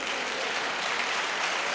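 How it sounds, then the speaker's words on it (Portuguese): Church congregation applauding the Lord during a sermon, a steady dense wash of clapping from many hands filling the space, continuous and even throughout with no voices. "Pode aplaudir o Senhor, ela nasce."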